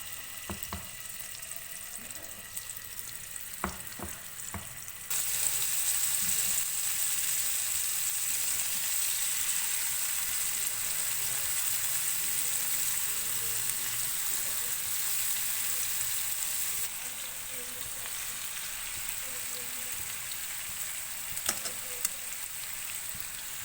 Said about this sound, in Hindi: ऑयल गर्म हो गया है। अब हम इसके ऊपर चिकन ऐड करेंगे।